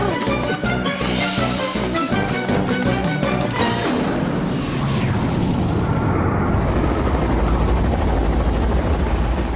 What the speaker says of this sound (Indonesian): Itu helikopter kita.